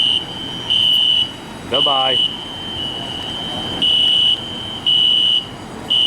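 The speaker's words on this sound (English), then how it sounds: "Fire alarm says bye-bye too." An indoor fire alarm sounds in loud, evenly spaced pulses of a shrill tone, with one brief spoken word from a person partway through.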